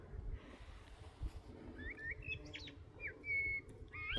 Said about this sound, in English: And can you hear the blackbird?